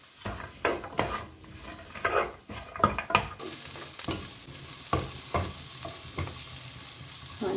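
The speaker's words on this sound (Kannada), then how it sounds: "ಈ ಆನಿಯನ್ದು ಹಸಿ ವಾಸನೆ ಹೋಗೋ ತನಕ ಸ್ವಲ್ಪ ಲೈಟ್ ಬ್ರೌನ್ ಆಗೋವರೆಗೂ ಫ್ರೈ ಮಾಡ್ಕೊಬೇಕು" Onion and cashews fry in a pan for palak paneer, with sharp spatula scrapes and stirring clatters followed by a louder, steady hiss of sizzling oil that continues close and alone.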